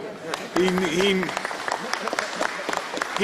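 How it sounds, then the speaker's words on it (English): Audience applause breaks out at a Pennsylvania governor's press conference, a brief burst of clapping that follows and overlaps a speaking voice. "Y'all should give him a round of applause."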